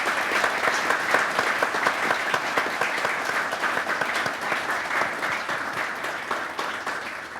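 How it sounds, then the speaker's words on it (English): Sustained applause from a tech talk audience at a machine learning presentation, steady dense clapping throughout with little voice. "let's take a big round of applause for our speaker"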